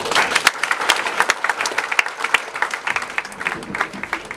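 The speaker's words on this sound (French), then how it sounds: "J'aimerais qu'on puisse acclamer l'homme de Dieu." A church congregation applauds the pastor with steady, dense clapping from many hands, lively and close, sustained without pause and without any speech.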